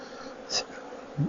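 Honeybees buzz around an opened hive during a spring inspection, a steady close insect drone with a couple of brief louder passes near the microphone.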